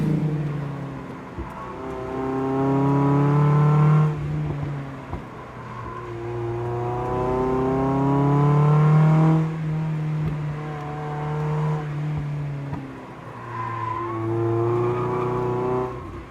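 A Mazda Miata driven hard on the Tail of the Dragon mountain road, its engine revving up and down through the gears in long rising pulls, loud and close from inside the car, with no talking.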